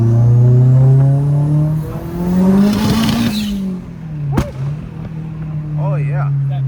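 A Mitsubishi Evo 8 pulls hard at full throttle in second gear, its loud engine note climbing steadily from inside the car before easing off, with a voice breaking in briefly over it.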